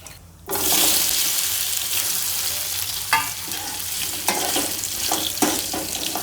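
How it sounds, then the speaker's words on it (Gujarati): Potatoes and bananas hit hot oil with a sudden loud sizzle that keeps crackling and hissing steadily, with a few stirring scrapes and clatters along the way. "આમ તેલમાં થોડીક વાર સાતળવા દેવાનું"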